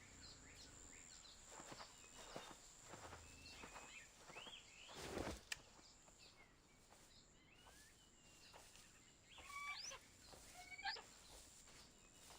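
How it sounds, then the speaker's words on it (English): Soft bird calls in the video game Reverse: 1999 chirp intermittently over a quiet ambient bed, faint and scattered, with footstep-like shuffles and one brief louder rustle partway through. "Bird noises."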